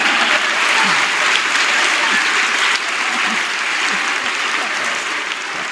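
A church congregation applauds steadily, a dense, loud wash of many hands clapping that holds for several seconds with a slight drop partway through, and faint voices mixed in.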